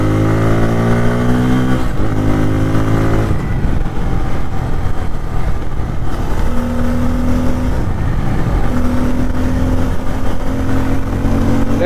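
A Bajaj Pulsar N250 motorcycle accelerates hard at speed, its engine note climbing through the gears with brief drops at each shift, loud and close over steady wind rush.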